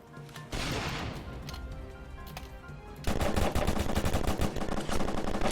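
Rapid machine-gun bursts in a computer shooting game, starting softer, then swelling into loud, dense automatic fire that runs to the end with no talking.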